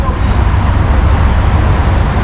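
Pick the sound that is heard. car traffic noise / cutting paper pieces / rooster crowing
car traffic noise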